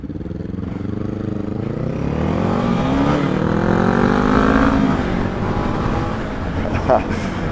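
Two motorcycles, a Honda XRE300 and a Kawasaki Ninja 250, accelerate in a road race, with a loud continuous engine drone rising and sweeping in pitch for several seconds before easing off.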